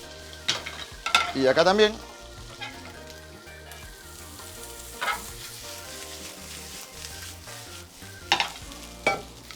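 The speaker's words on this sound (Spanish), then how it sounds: "Y agregamos nuestro arroz antes de que se queme." Rice being stir-fried in a wok for chaufa, a steady sizzle with scraping stirs and louder bursts as it is tossed, a voice speaking briefly over it.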